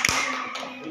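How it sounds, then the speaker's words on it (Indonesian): A group of pupils in a classroom gives a single short burst of clapping that fades quickly. "Tepuk tangan."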